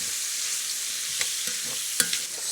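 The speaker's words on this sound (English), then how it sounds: "Now we're going to put in a diced up red pepper and a couple of onions. And we'll just saute that off a little bit." Diced red pepper and onions sauté in an enameled pan for chicken kabsa, a steady bright sizzle broken by a few sharp taps and scrapes of a metal spoon.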